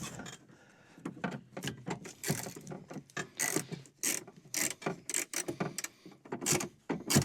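Ratchet wrench snugging bolts on a Kioti DK6020SE tractor's three-point hitch stop, close up: bursts of quick clicking pawl strokes in irregular rhythm with short pauses between, no talk.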